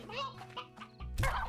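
Hens cluck in the video game Slime Rancher, short throaty calls close up, with a louder, rougher burst near the end.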